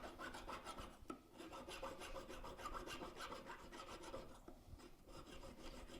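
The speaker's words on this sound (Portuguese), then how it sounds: "Eu vou fazer uma lixada por dentro, dar o acabamento por dentro" Filing the inside of a gold ring during a repair, a faint, continuous rasping rub in quick back-and-forth strokes, close and steady with no voices.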